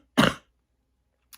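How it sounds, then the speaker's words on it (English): One short, close cough bursts out alone, followed by silence. "I have to keep coughing."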